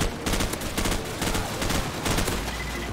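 Rapid AK-47 automatic fire in Call of Duty 4, loud and close, in repeated bursts of sharp shots with short pauses between them, no talking.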